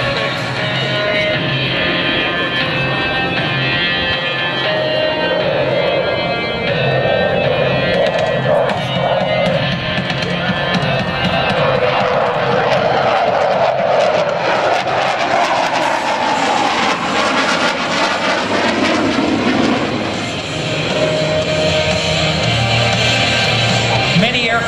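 A CF-18 Hornet fighter jet flies display maneuvers at the 2012 Cleveland National Air Show, a loud, continuous jet roar that swells and shifts in pitch as the aircraft turns and passes.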